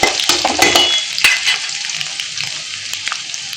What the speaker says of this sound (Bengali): এখন আমি পেঁয়াজ দিয়ে দেবো। এদিকে পেঁয়াজ ভাজা হইতে হইতে